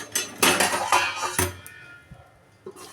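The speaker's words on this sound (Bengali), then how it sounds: "এবার আমি ঢেকে দেবো" A metal lid clanks onto a pot of simmering potato and vegetable curry, a few sharp close clinks and rattles in quick succession, then quiet.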